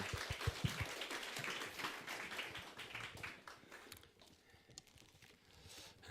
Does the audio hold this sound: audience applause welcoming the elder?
yes